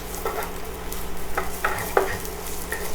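Onions go into a hot pan with olive oil at medium heat, and a steady low sizzle carries a few sharp clinks and scrapes of stirring close by, with no talking.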